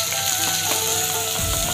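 Garlic, turmeric and chilli fry in a pan, producing a dense, steady sizzle that stays loud and close throughout, with no voices.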